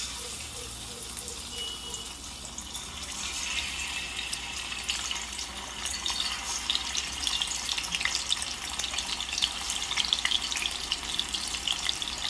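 Fish pieces fry in hot oil in a kadai, giving a steady, broadband sizzle that holds at an even level for the whole stretch, with no voices over it.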